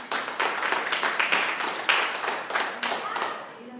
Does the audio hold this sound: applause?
yes